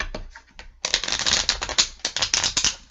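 Tarot cards are riffled and shuffled by hand close up, rapid crisp flutters and taps in repeated bursts, with no speech over them.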